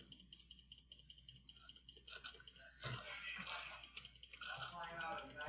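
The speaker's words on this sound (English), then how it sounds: "This is so much clicking" Rapid mouse and keyboard clicking during a Roblox game, a dense run of light ticks and taps that grows busier partway through, mixed with quiet game sounds and a talking voice.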